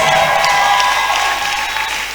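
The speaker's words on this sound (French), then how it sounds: "Let your clapping be above." A church congregation claps and cheers in joyful worship, a dense, steady wash of hands and voices close by that fades slightly toward the end.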